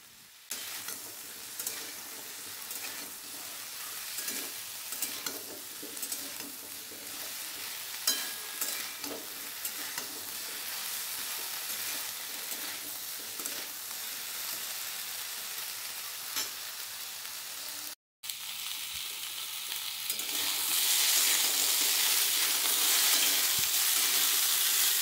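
Chopped tomato added to a spice paste frying for a drumstick, pumpkin and potato curry, with a continuous sizzle and irregular stirring scrapes; after a brief cut the frying grows louder and hissier.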